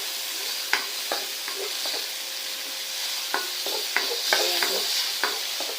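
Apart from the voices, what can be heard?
sautéing tomatoes in a pan for pork monggo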